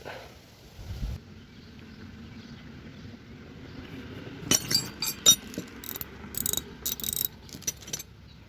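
A 3/8-inch drive S-K ratchet is worked by hand, giving a run of sharp metallic clicks and clinks in irregular bursts over a quiet background, loudest in the second half.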